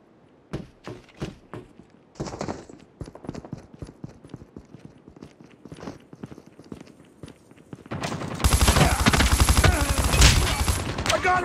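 Gunfire in the Call of Duty video game, scattered sharp shots and clattering footsteps, then a dense, loud burst of rapid automatic fire over the final few seconds.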